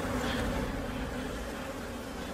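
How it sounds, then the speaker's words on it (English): A huge swarm of honey bees hums as a dense, steady buzzing drone, fairly close and continuous, with no voices. "it turned out that it was just a huge swarm of bees."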